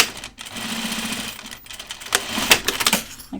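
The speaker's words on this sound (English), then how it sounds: "I'm going to stitch it again, enclosing that seam allowance" A sewing machine stitches a backpack seam near a zipper slider, running in steady bursts with brief pauses and a few louder clattering stops near the end, close and alone.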